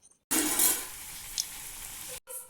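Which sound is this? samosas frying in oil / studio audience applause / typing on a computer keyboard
samosas frying in oil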